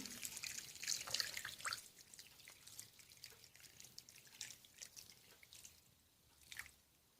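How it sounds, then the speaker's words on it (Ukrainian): Boiled water is poured over a pearl barley mixture in a kitchen, giving faint irregular trickles, splashes and drips that come and go over several seconds. "Суміш заливаємо кип'яченою водою."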